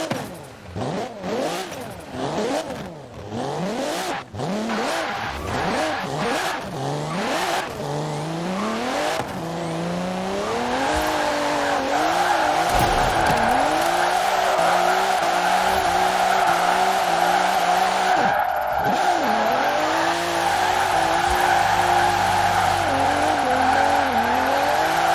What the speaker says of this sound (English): Now let's go hit a couple drift zones.